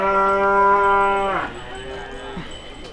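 Cattle at the Rogojampi livestock market in Banyuwangi moo in one long, loud, resonant call that drops in pitch, then fade into a quieter second bellow amid faint market noise.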